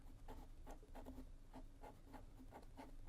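A Pelikan Graphos technical fountain pen with an A6 nib writes on paper. Soft, close, quiet scratching strokes repeat in a steady rhythm.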